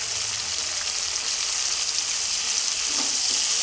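Gongura leaves fry in oil with a pinch of turmeric, giving a close, steady sizzle and crackle that runs throughout, with a faint stirring scrape near the end.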